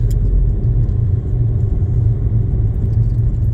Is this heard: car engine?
yes